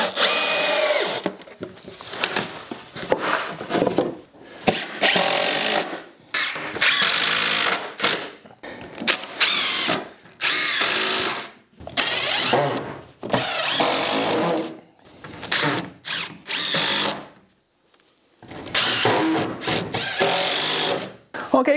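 A power drill drives screws into wooden boards while a raised planter box is assembled, giving repeated loud whirring bursts of a few seconds each, separated by short pauses, with no talk over them.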